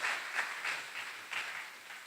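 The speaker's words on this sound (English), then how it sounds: "a round of applause for yourselves" Audience applause at an info shop event, faint and steady clapping that stays even throughout with a distant, roomy quality.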